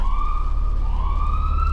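A police car siren wails steadily in a rising and falling sweep, loud and close, with no talk over it.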